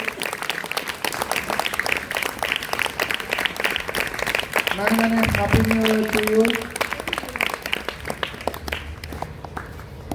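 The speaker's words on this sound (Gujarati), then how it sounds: "જોરદાર તાળીઓથી વધાવીશું." A school audience at an event claps in sustained, fairly loud applause with a voice speaking over it and a brief musical tone in the middle, thinning toward the end.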